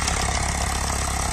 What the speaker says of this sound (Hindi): और बहुत सारा ट्रैक्टर आया हुआ है।